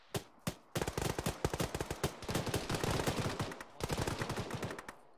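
A heavy vehicle-mounted gun, like a BTR's, fires in a video game battle: rapid, loud bursts of thudding shots with brief pauses between volleys, close and continuous.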